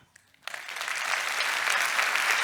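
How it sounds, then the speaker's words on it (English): A conference audience breaks into applause, quiet at first and then swelling into steady, dense clapping that continues to the end. "And a big applause for you"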